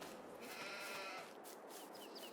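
Sheep bleating in Farming Simulator 22 on a farm with open sheep pastures, a few soft game-animal calls over a steady, faint ambient bed.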